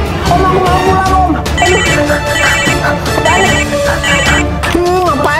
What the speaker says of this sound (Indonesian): Ngapain sih Dinar telepon